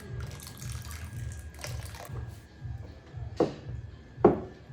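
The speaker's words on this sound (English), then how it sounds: "You now pour it into the mixture." Dissolved caustic soda solution poured into a liquid soap mixture in a bowl, a soft continuous watery pour with a low gurgling pulse and two brief splashy knocks near the end.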